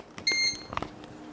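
An Oster 2-Pound Expressbake breadmaker gives a short electronic beep signal to add raisins, a brief clear tone lasting a fraction of a second, followed by faint clicks and handling noise.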